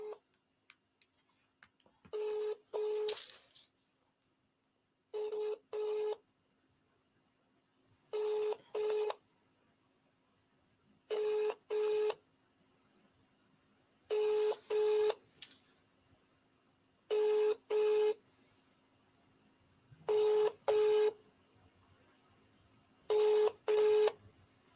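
A phone call goes out over the line with a double-pulsed electronic tone that repeats eight times at an even interval of about three seconds, with near silence between, after a brief noisy click at the start.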